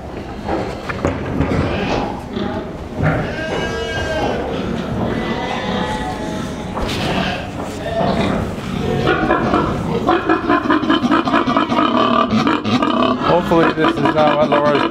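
Livestock sales barn full of cows and pigs, with loud lowing, squealing and grunting animal calls overlapping throughout, close and busy, while a person talks over the din.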